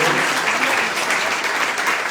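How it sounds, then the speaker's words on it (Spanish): A crowd at a talk by a Hare Krishna swami applauds Maharaj, giving a dense, steady clapping that stays loud and even throughout the short stretch. "otro aplauso por favor para Maharaj"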